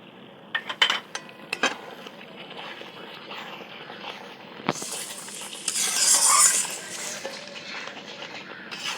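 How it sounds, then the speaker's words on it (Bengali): Spice paste for chicken biryani being sautéed in a pan with splashes of water, with a steady sizzle, scraping utensil strokes against the pan and a louder hiss surging midway. "একটু একটু জল দিয়ে দিয়ে কষছি মশলাটাকে"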